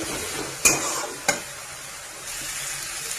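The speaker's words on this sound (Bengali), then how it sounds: "তো এটা মশলাটা কষাতে কষাতে আমি চিকেনগুলোর মধ্যে দিয়ে দেবো।" Spice masala for achari chicken being stirred and fried in a pan: a steady close sizzle with two sharp scraping knocks of the spoon against the pan, no voices.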